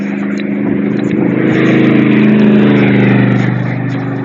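A car engine drones loudly and close, swelling in the middle and then easing slightly, with a rough buzzing tone that lasts the whole stretch.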